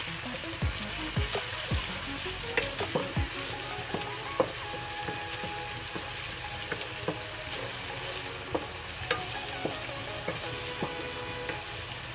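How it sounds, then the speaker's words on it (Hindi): Steady sizzling of garlic and ginger frying with onions in a pan, with occasional stirring clicks and scrapes, close and continuous with no talking. "इसको प्याज के साथ थोड़ा देर पका लूँगी।"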